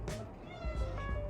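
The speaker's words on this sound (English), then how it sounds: "That's my cat." A pet cat named Bella gives a couple of short, close meows indoors, with a person talking softly alongside.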